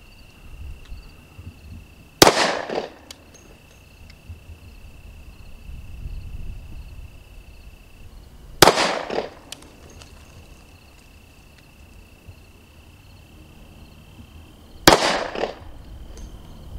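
Three loud, sharp pistol shots from an old SIG 220 chambered in 10 millimeter at an outdoor range, spaced about six seconds apart, each a sudden crack with a short decay into quiet background noise.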